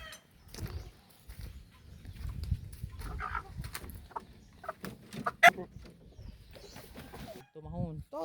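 A Texas gamecock rooster gives short clucks and harmonic calls, loudest near the end, with people talking throughout.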